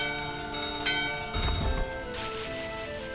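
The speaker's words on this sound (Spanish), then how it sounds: "tener un sistema de apertura de puertas que vaya por campanas que se rompen" Bells ring and shatter as doors open in Final Fantasy IX, with bright sustained chimes over a humming background and a sudden burst of crashing noise in the middle. No one speaks.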